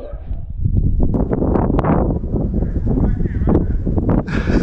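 Several beagle hunting dogs bark and yip in a busy outdoor chorus during a rabbit hunt, with a person talking over the commotion.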